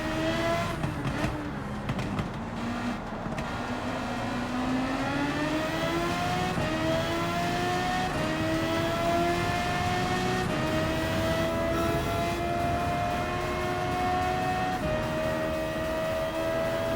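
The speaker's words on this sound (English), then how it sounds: "That rotary sounds awesome." A rotary-engine race car in Gran Turismo 7 holds a loud, buzzing high rev with a rising, wavering pitch, sustained for many seconds and close up, with no talking over it.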